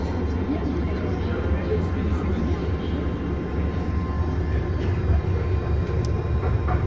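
Steady low rumble of a Paris RER A commuter train in motion, heard from inside the carriage as a continuous dense roar with faint higher rattles throughout.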